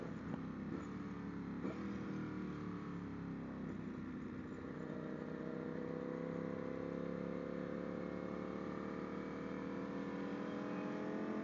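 Sport motorcycles ride through a corner on a track during a coaching session, their engines droning and shifting pitch as they lean through and accelerate out. The sound stays fairly distant and steady, with no talking.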